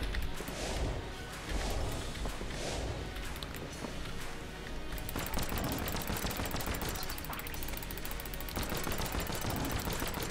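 Rapid gunfire from the Hyperlight Drifter gun in the video game Enter the Gungeon, fired at point blank amid dense game effects, with steady bursts of shots continuing loudly throughout alongside background music.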